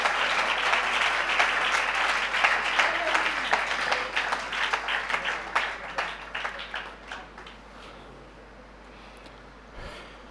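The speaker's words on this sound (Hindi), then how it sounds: "जोरदार ताली बजाकर परमेश्वर को धन्यवाद करें" A church congregation claps loudly during a Sunday service, starting as a dense, energetic burst and gradually thinning into scattered claps before fading out.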